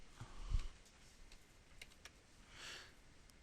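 Keystrokes on a computer keyboard while entering a static IP address, a few soft scattered clicks spread over quiet background hum, with no one talking.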